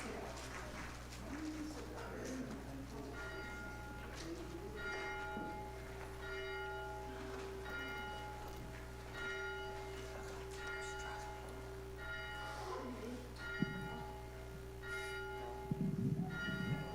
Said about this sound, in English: We will begin our service with the ringing of the bell